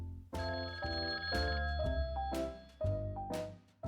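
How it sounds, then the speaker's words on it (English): A long-unused telephone rings in bright, repeated electronic bell tones, several clear rings in quick succession, close and alone. "It was my phone. It hadn't rung for years."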